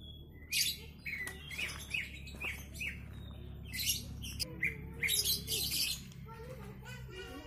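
A caged oriental magpie-robin (kacer) gives bursts of sharp, high chirps and squawky notes close by. The calls come in uneven clusters separated by brief pauses.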